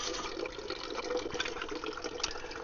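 Water running into a Stanley percolator, a soft steady splashing pour, quiet and continuous with no talking.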